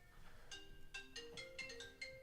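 A mobile phone ringtone plays a bright, repeating electronic melody made of short tonal notes. It is fairly faint and carries on steadily for about two seconds.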